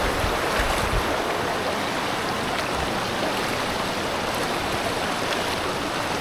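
A cold, shallow river flows steadily, a dense, continuous wash of rushing water close by with no voices.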